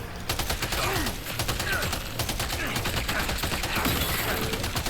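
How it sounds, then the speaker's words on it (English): Rapid automatic gunfire from a machine gun in Death Stranding 2: On the Beach, fired in dense sustained bursts. It rattles for about five seconds over continuous game noise. "And then now, let's get our machine gun out."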